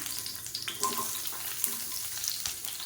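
Sliced onion from a large onion frying in hot oil in a kadai, a steady close sizzle with a few light scrapes and clicks, no voices.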